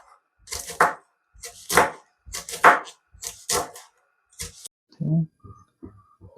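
A knife chops spring onion stalks into small pieces on a board, a series of short, crisp strikes in spaced clusters, close and fairly loud, ending with a few softer taps.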